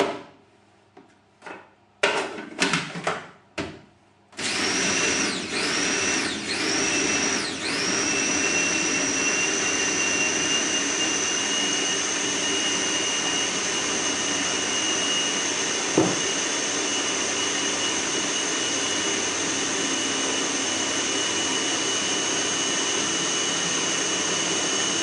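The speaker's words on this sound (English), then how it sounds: "we're going to buzz this in a food processor" A food processor buzzes a sprouted seed bread mixture, starting with a few short stuttering pulses before running into a loud, steady whirring drone that continues uninterrupted for about twenty seconds, close by.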